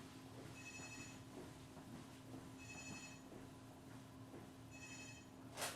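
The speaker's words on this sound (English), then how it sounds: "My phone's ringing." A telephone rings indoors, three short trilling bursts evenly spaced about two seconds apart, faint and slightly distant over a low room hum.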